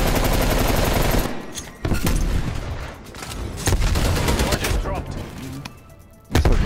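Gunfire in Call of Duty Cold War, shooting through walls: loud bursts and single shots crack in irregular clusters close by, with someone talking over and between the shots.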